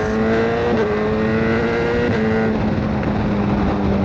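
A BMW S1000R motorcycle with a quick shifter roars under hard throttle, its engine tone stepping in pitch as it shifts up. The engine sound is loud and continuous, with no voices.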